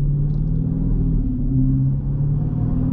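A 2022 Dodge Charger Scat Pack Widebody pulls away in eco mode with a deep, steady engine rumble and low drone that builds slightly, heard loud and close from inside the car with no talk.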